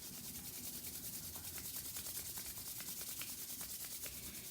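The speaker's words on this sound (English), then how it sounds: "begin to rub your hands together," Palms rub briskly together to build warmth in a continuous soft, steady swishing friction, close but quiet, with no talking.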